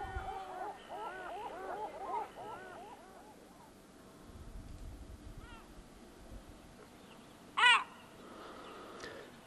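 Gulls call at Lake Méziaa, several wavering cries early on, then a single loud, close squawk later, over faint wind and water.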